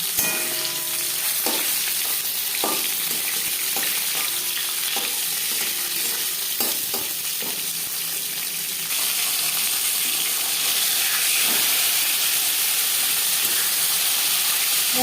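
Marinated bhola fish sizzles loudly in hot refined oil, a dense continuous frying hiss with occasional crackles and soft spatula taps, close and with no voices.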